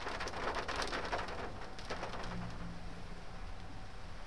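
Steady rain falling, a dense wash of patter with scattered brighter drops early on, continuous and fairly close with no voices.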